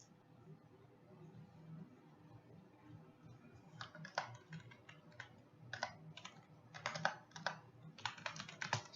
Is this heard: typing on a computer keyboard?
yes